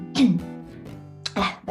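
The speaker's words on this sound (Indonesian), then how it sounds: "Batuk" A single short cough with a throat-clearing quality, close and fairly loud, followed by a second brief burst, with no talk over it.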